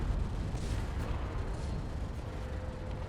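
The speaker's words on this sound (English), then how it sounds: "The cannons are firing still" Battleship cannons fire in the Space Engineers video game, a continuous dense low rumble of booms and blasts with no clear gaps, loud and steady throughout.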